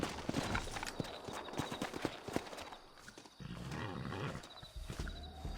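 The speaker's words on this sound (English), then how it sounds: "Looks like Carlos left us some horses" Horse hooves clip-clop in the Red Dead Redemption remaster video game, a quick run of near hoof beats that fades and resumes, under game ambience with a brief roar-like sound.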